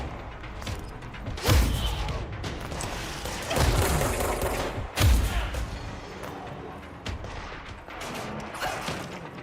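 Gunfire in a video game strikes the player character, heard as several loud, sharp bursts at irregular intervals over a dense, busy game soundscape.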